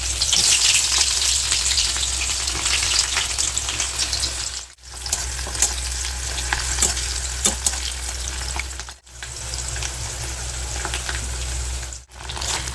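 Onion and fermented fish sizzle in hot oil in a pan, a loud continuous crackling fry with brief pauses where the sound drops out, close and alone without talk.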